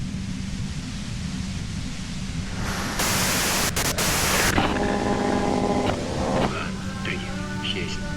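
Radio static from the video game Disco Elysium: a loud, steady hiss with a brighter noisy burst in the middle and tonal warbles breaking through, while a voice talks.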